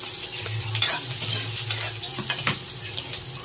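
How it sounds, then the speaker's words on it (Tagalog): Onion and garlic sauté in a pan for menudo-style corned beef, a close, steady frying sizzle with light stirring scrapes and clicks throughout, no voices. "isinunod ko naman ngayon ang sibuyas at saka bawang. Lutuin lang po natin ito hanggang lumabas ang aroma."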